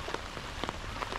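Rain falls steadily at Kamikochi in the alpine western region of Nagano, Japan, a soft continuous patter with scattered drops striking nearby surfaces.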